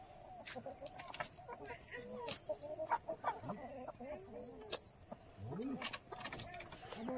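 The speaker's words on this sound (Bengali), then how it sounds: "ঠাম্মা ঘর খুলে আগে সকালবেলা মুরগিগুলো কি খাবে।" Chickens cluck and murmur at a morning feeding in a village yard in the Sundarbans, scattered soft calls at moderate distance over a steady high background hum, with speech faintly mixed in.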